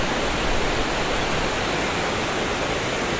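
Water rushes over a spillway waterfall at a fishing spot, a dense, constant roar heard close and loud with no pauses or voices.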